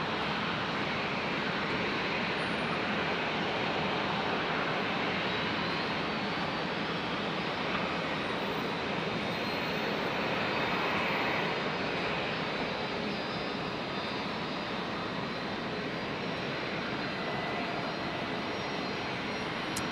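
An airliner departing Brisbane Airport bound for Cairns gives a steady, broad roar from a distance that holds constant throughout, with no voices over it.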